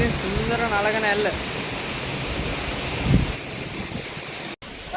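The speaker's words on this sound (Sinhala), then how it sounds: "මේක තමයි ඉතින් නලගන ඇල්ල." Steady broadband rush of the Nalagana waterfall in Bulathkohupitiya, Sri Lanka, a constant close roar of falling water that runs unbroken through the whole stretch, with a brief dropout near the end.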